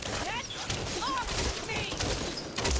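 Gunfire from the zombie shooter game Back 4 Blood, dense continuous bursts and impacts filling the whole stretch, loud and busy with chaotic game effects.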